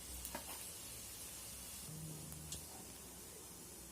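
Cumin and mustard seeds dropped into a few spoons of hot oil in a pan, a faint steady sizzle with a couple of light taps and pops, no talking.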